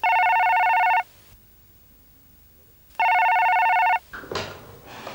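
A telephone bell rings twice, loud and close, each electronic trill lasting about a second with a two-second silence between, followed by faint handling noise.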